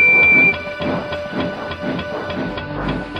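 Steam locomotive in the Trainz railway simulator game, a rhythmic chuffing hiss repeating about twice a second, loud and steady, with a brief whistle-like tone at the start and no talking.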